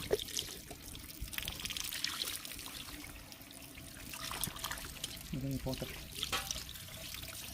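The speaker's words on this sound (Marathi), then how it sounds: "त्याला धुवून घेऊ जरा." Water trickles and splashes quietly while a whole 3 kg katla fish, already slit and cleaned inside and out, is rinsed, a low steady wash with a few brief louder splashes near the end.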